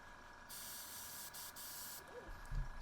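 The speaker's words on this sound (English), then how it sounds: "I do want to test and see if I can spray a little bit of gray and then maybe blue on top of that." Short hissing bursts from a spray paint can spraying Slate Cool Gray paint, two or three close spurts with brief pauses, ending with a low thump.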